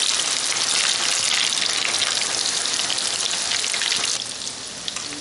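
Cauliflower florets frying in very hot oil, a dense, loud, continuous sizzle with crackling bubbles that eases slightly near the end.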